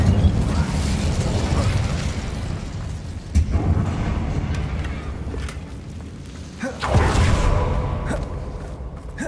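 Fire spell bursting in Hogwarts Legacy near a damaged bridge: a sustained roaring, crackling blast that swells in two or three surges over a dense game soundscape.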